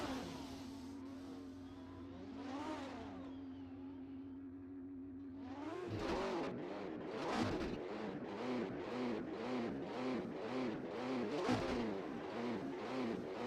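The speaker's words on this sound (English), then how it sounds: "Pierre Gable is expertly commanding that car through Blanchimont." Jordan 191 Formula One car in a racing sim at Spa in 1991. A steady engine note at first, then a loud high-revving roar that rises and falls in rapid repeated sweeps through the gears.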